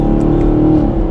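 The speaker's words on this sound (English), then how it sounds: "One last acceleration for today's video." A 2021 Chevrolet Camaro SS 1LE with a V8 engine gives a brief, loud, close exhaust drone under acceleration, holding a steady low growl.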